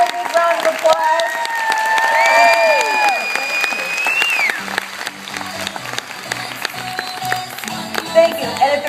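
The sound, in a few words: big round of applause for the speaker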